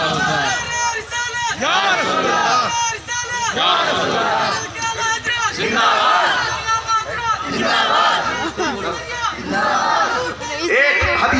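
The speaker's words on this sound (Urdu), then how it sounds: "نعرہ کم لگاؤ، نعرہ لگانے کا وقت نہیں ہے" A crowd at a religious gathering chanting slogans in loud, rhythmic bursts of many voices, repeated call-and-response waves that swell and dip close by.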